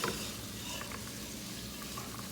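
Onions for moussaka sauté in a pan, stirred with a wooden spoon, making a soft, steady sizzle with light scraping now and then, close by but quiet, and nobody speaks.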